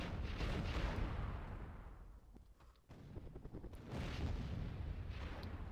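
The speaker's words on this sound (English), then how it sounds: "Another rocket attack." Heavy rumbling explosions from a rocket attack in a video game boom in succession, with crackling blasts between them, loud and continuous with no voices.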